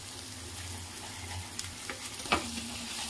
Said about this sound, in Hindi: अब इसको हम अच्छी तरह मिक्स कर लेते हैं अपनी सॉसेस को